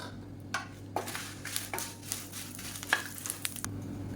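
Dried red chillies and curry leaves roast in a pan for a sesame spice powder, with a faint low sizzle and soft, scattered scrapes and taps of a ladle stirring them.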